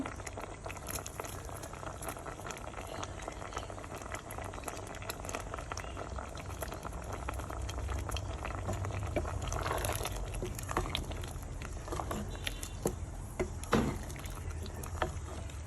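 Dal and zucchini simmering in a pot, a quiet continuous bubbling with soft pops and occasional faint clicks, steady from start to finish.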